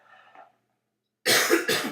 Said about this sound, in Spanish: perdón, con la tos